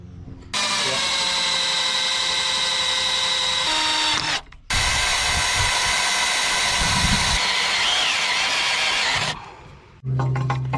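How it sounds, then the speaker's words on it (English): A power drill whines loudly in two long runs drilling an excavator part, stopping briefly in between, with a high steady motor tone and some rattling. "Instead of welding, we're gonna drill it."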